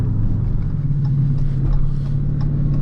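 Dodge Challenger Shaker with a manual gearbox accelerating, a steady low engine drone heard from inside the car, constant and fairly loud throughout.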